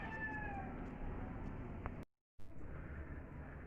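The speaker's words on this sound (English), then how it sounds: "Meow, Missy." A cat meows a few times, close and clear, with a brief silent gap partway through.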